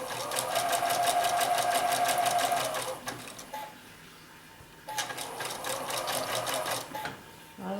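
Sewing machine stitching an outside curve on a bunny table topper, a rapid mechanical chatter in two bursts separated by a quiet pause for pivoting, close and clear, with no voices.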